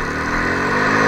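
Italika XT110 semi-automatic motorcycle engine idling steadily at close range, a continuous mid-pitched hum with no talk over it.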